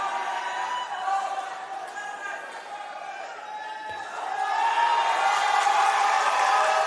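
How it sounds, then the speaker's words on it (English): The home crowd at a Pacific Games weightlifting event in the Solomon Islands roars, a broad wash of cheering that swells louder near the end under a commentator's voice. "Listen to the roar from the Solomons crowd."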